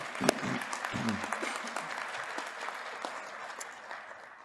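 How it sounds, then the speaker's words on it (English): At a university hooding ceremony, an audience gives sustained, even applause that carries through the whole stretch and slowly tapers off near the end. "A round of applause for you."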